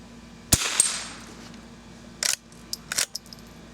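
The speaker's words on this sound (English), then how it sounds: "Let's shoot at the one on the right first." A vintage Marlin 39A rifle fires at swinging targets: one sharp shot near the start, then a second report and a few lighter metallic clanks and pings closer to the end.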